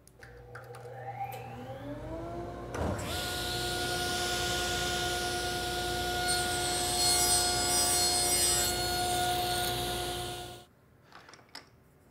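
A hand saw cuts pieces of wood for a double dovetail joint in a steady stroke that runs for several seconds and then stops, with a machine hum droning underneath.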